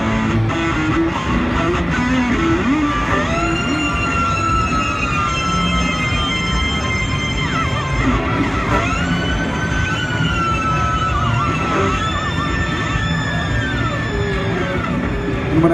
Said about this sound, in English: You can make the pitch shifter go really high.